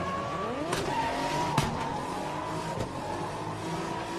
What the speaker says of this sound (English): There he goes, squealing and braking as he goes past.